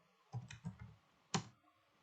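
A short run of keystrokes on a computer keyboard, a quick cluster of soft clicks followed by one louder, sharper key press near the end, close and quiet with no talking.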